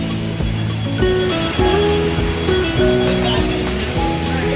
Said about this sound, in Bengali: খুব সুন্দর একটি ঝর্ণা।